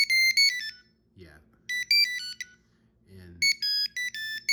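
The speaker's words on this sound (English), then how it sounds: "The ringtones are monophonic ringtones." Monophonic ringtone of an early GSM mobile phone on the XE Mobile network: loud, bright beeping melody in short bursts, playing three separate phrases with brief pauses between them and low murmuring sounds in the gaps.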